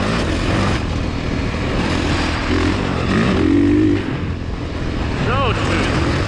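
A 2022 Honda CRF450R dirt bike engine runs steadily while it is ridden, its broad, continuous drone rising briefly in pitch mid-way, with someone talking over it.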